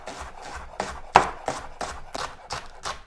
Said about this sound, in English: So it's probably just as fast to just slice them by hand.